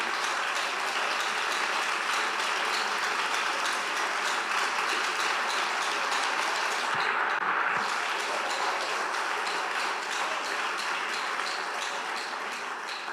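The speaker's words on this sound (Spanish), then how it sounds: "Fuerte ese aplauso para él" Steady crowd applause from a church congregation, continuous dense clapping holding at an even level throughout with no talking over it.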